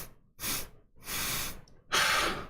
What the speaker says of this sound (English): like me inhaling, just like me breathing. It's not supposed to be able to pick that up.